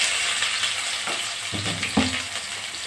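Onion sizzles in hot oil in a pan for cauliflower masala, a steady close hiss with a few soft stirring scrapes, no voices.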